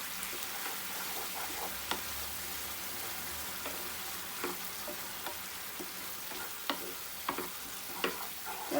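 A sugar and jaggery mixture stirred in a hot pan for a Malabar banana sweet, a steady bubbling sizzle with periodic scraping clicks of the spoon, close and continuous, without speech.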